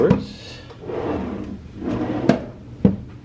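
Wooden hotel room drawers in a San Francisco hotel slide and knock shut, several short thumps and rubbing slides spaced a second or so apart, close by, mixed with a person talking.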